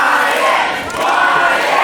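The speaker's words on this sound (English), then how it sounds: "This crowd's behind him." A pro wrestling crowd roars and chants loudly in an arena, a dense, sustained wall of cheering close around the listener.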